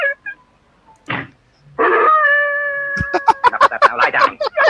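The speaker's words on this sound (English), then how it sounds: "It sounds like a basset hound." A dog, compared to a basset hound, gives a long wavering howl with sustained tones, then breaks into a rapid series of yelps and barks, fairly close and loud after a few faint sounds at the start.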